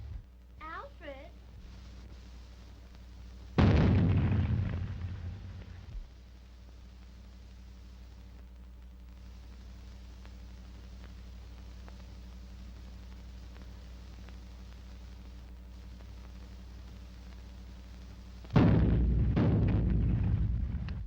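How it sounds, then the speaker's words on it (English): Cannon fire booms twice in a 1929 film soundtrack, each a deep heavy blast with a rumbling tail, separated by a long quieter stretch; a voice speaks briefly at the start. "Do you hear those cannons?"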